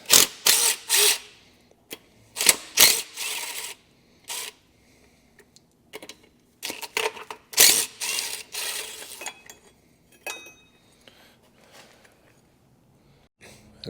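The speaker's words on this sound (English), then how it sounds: "I'm going to take this bracket off. 13 millimeter bolts." A ratchet clicks in quick bursts while 13 mm bracket bolts come off a Dodge Ram 1500 5.7-litre Hemi engine, each burst separated by short quiet pauses and the occasional clank of metal.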